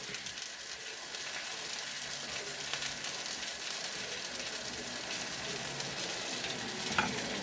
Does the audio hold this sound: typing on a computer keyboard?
no